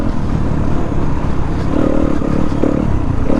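A 2019 Yamaha WR250F dirt bike being ridden off-road, its single-cylinder engine droning loud and close with rough, steady throttle and clattering from the trail, no voices.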